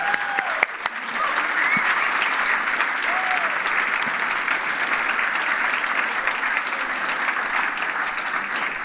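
Sustained audience applause at an award evening, a dense wash of clapping from a room of people that holds steady for several seconds.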